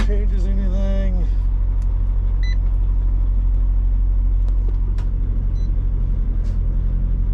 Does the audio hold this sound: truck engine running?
yes